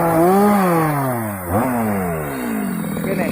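A new Stihl MS chainsaw felling an acacia tree roars close and loud, its engine pitch sliding down under load, catching with a sharp blip, then settling into a steady buzzing drone.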